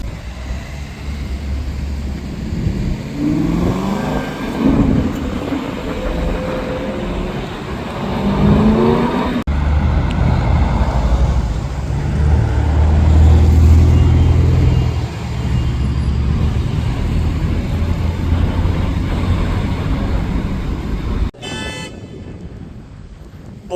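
A Chevrolet Camaro SS passes on a roadway, its engine note swelling and fading amid steady traffic and wind noise, followed by an abrupt cutoff near the end.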